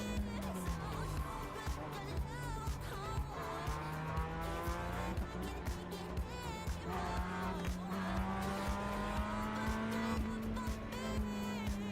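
A Mazda MX-5 race car in iRacing drones through a steady engine note that rises and falls through the gears, with bursts of tire squeal and skidding throughout.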